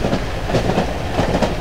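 In the horror game Cry of Fear, a train runs close by, with a steady loud rumble and repeated clacking of wheels over rail joints.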